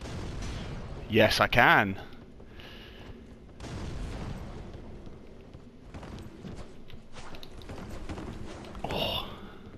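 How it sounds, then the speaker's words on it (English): Bombs bursting in Dark Souls 3, a loud booming blast near the start followed by rumbling game combat, with someone speaking briefly over the action. "Maybe I can chip him out with some bombs."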